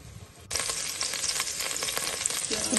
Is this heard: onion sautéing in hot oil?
yes